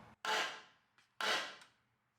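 Two sharp metallic bangs from hammering a thin metal oil pan ring out about a second apart, close and loud, each decaying quickly, with a faint lighter tap between them.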